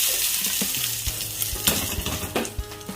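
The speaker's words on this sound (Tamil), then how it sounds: "இப்போ நான் இதை எடுத்து எங்களோட சட்னியில் ஊற்றிக்கொள்ள போகிறேன்" A hot tempering of chillies and curry leaves gives a loud, steady hiss and sputter, with stirring clinks and scrapes across the bowl of coconut chutney, no voices.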